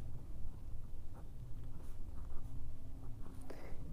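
Chalk or marker scratching steadily across a board while an equation is written out for a class nine maths lesson, a dry, continuous scraping with short strokes and pauses, close and alone without talk.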